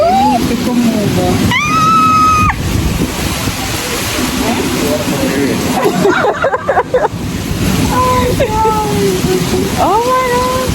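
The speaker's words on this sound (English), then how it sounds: "It's not only raining, it's very windy. Oh my god, guys, this is a storm." Heavy storm rain and strong wind roar as a steady, loud broadband wash throughout, with gusts buffeting the microphone, while people talk excitedly over it.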